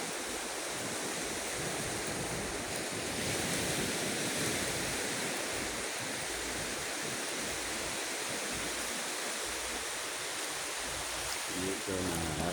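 Ocean waves wash steadily onto a long sandy beach in the morning, a continuous broad roar of surf that stays loud and unbroken throughout, with a brief faint voice near the end.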